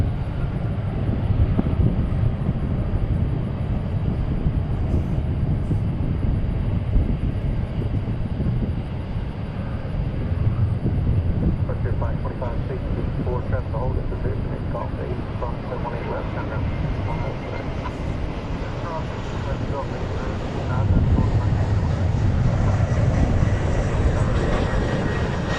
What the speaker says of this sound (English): There goes Turkish off to Istanbul.